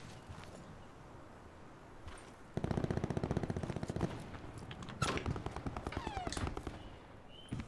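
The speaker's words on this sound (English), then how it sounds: "Definitely hear shots going off." Gunshots in the Blackout beta video game ring out as a rapid automatic burst followed by more scattered shots, fairly close and loud over steady ambient game noise.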